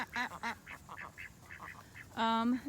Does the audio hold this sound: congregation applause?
no